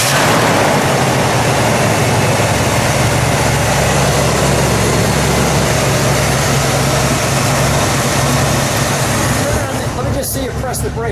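A 1982 Pontiac Trans Am built as a KITT replica fires up and settles into a steady, loud idle, its low rumble running continuously throughout with voices talking over it.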